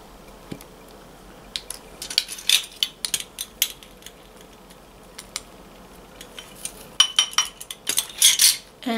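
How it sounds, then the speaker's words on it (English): A spoon stirs Swizzle Malarkey with a quarter teaspoon of turquoise in a bowl, giving close, irregular clinks and wet scrapes that bunch into quick bursts, with no talking. "I'm going to mix this again to see where we're at"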